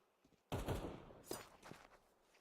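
Scout sniper rifle shots in a Counter-Strike 2 match: a sharp, fairly faint blast followed by a second crack and a brief tail, with no talking.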